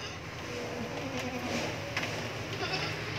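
Boer goats bleat repeatedly over a steady background hum on a farm, with several overlapping calls at moderate distance.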